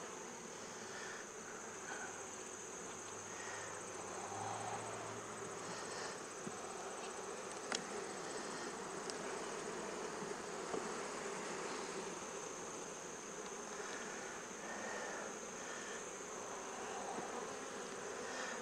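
Honey bees in an opened hive holding capped brood on the comb frames, a dense continuous buzzing hum of many insects, steady and close throughout, with no voices.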